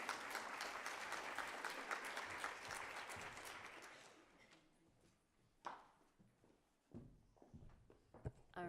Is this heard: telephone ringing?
no